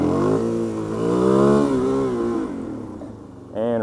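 A motorcycle engine on a New Year's Eve ride revs up and holds a steady, rising drone, easing off briefly before surging again near the end, loud and close.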